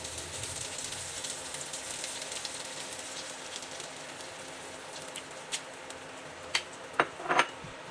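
Egg and eggplant omelette (tortang talong) with onion frying in a pan: a steady soft crackling sizzle throughout, with a few sharper pops and clicks near the end.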